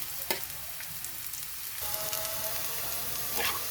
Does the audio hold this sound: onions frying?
yes